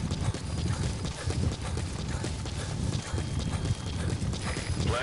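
Horse hooves clip-clop in a steady, continuous rhythm on a hard surface, with a faint ambient wash behind them, from the video game Metal Gear Solid V: The Phantom Pain.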